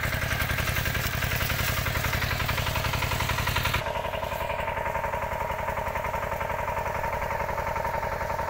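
A tractor engine runs in a sugarcane field, putting out a steady rapid chugging throb that stays loud and constant throughout, with a small shift in tone partway through.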